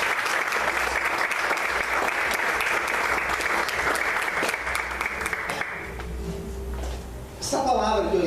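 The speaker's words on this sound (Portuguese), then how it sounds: "Vamos aplaudir o Senhor bem forte." A church congregation claps loudly and steadily in a dense burst of applause, which thins out near the end as a voice begins speaking.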